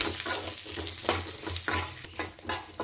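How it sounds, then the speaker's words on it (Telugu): Whole spices and a small pinch of turmeric sizzle in hot oil for a tempering, made outdoors under a mango tree for a raw mango chutney. A steady, close frying hiss runs throughout with several soft stirring strokes and no talking. "ఇదిగోండి తాలింపు అయితే మంచిగా అయింది కదా."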